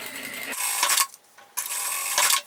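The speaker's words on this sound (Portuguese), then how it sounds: "Vou passar então primeiro uma costura aqui na parte de baixo" Sewing machine running in two fast bursts of rapid mechanical clatter, separated by a brief pause, as it stitches the bottom seam of a thermal bag.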